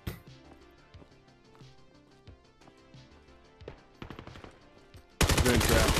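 Gunfire in a John Wick themed VR aim-training shooter match: scattered sharp shots and clicks over a low game backdrop, then a loud sustained burst of rapid automatic fire at the end.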